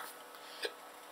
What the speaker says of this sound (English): Ooh, I've got hiccups as well from the sound of it.